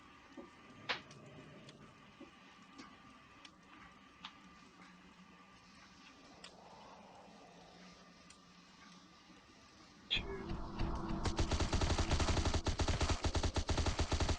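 Rapid automatic gunfire bursts out loud and dense in the mobile game Tomb Adventure: Doomsday Survival, a sustained clatter of shots after a stretch of quieter game ambience with scattered clicks.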